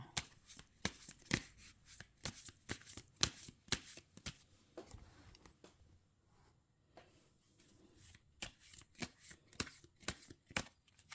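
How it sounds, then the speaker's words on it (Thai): Tarot cards being shuffled and cut by hand for a fortune-telling reading: a steady run of crisp, close riffling and slapping bursts, with a brief quieter pause midway and no talking. "ขอเป็นตัวแทนตัดไพ่ตัดไพ่ให้คนเกิดวันพุธค่ะ"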